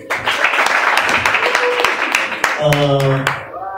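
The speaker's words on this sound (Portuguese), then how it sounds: "uma salva de palmas para eles" A crowd at a Portuguese-language battle show's season opener claps loudly for a couple of seconds, then the applause gives way to a sustained tonal sound as it fades out.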